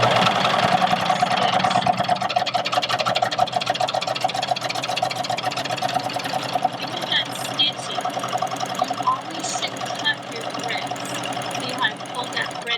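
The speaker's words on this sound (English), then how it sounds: "I like to sew just a little bit so that my threads are caught" A serger sewing machine stitches fabric in a fast, steady mechanical chatter that runs loud and close throughout, with a person talking over it.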